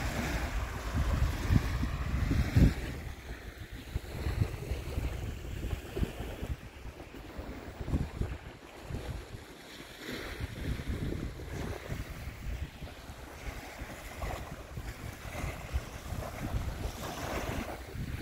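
Steady wind blows across the mic by the shore of Lake Victoria on a morning, a continuous gusting rumble with faint wave wash beneath, no voices.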